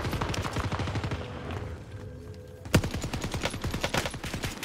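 Sustained gunfire in Call of Duty: Warzone Pacific, rapid automatic bursts rattling continuously with one sharp louder shot midway, dense and close.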